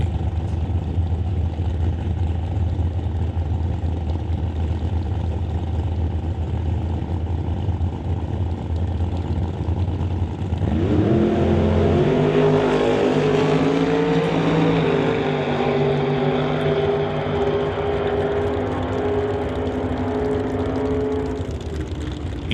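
Drag race on a strip between a modified 1941 Willys with a rear wing and a Camaro, loud engines roaring steadily then swelling into a rising, harmonic-rich wail as the cars launch and pull away.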